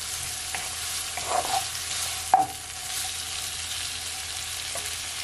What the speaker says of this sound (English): I'm just gonna leave it to saute, guys, for at least 10 to 15 seconds